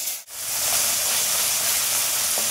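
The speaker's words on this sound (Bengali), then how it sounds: "এটা গরম হয়ে গেছে, এবার আমি মাছগুলো দিয়ে দেবো।" Turmeric-coated fish dropped into hot oil in a wok, a brief hush and then a sudden, steady hissing sizzle that stays loud and close.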